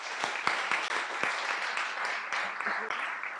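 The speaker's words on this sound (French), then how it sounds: "on va faire un tonnerre d'applaudissements pour Justine" Audience applause at a Le Wagon Marseille demo day greets presenter Justine: a dense wash of many hands clapping at close range, with a few sharper individual claps and faint voices mixed into the crowd noise.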